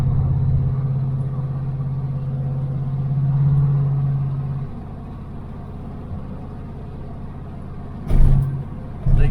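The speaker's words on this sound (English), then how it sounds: "The exhaust don't sound too bad." A 1978 Dodge Aspen R/T stuck in second gear, its exhaust a steady low drone while driving, easing off midway to a quieter rumble, then a couple of louder thumps near the end like the car jolting over bumps.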